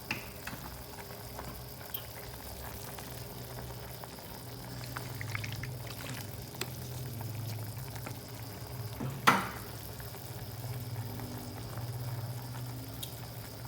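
A pot of Lao salty egg soup with luk seen bubbles on a low simmer, a steady faint churning under the sound of a single sharp clink partway through.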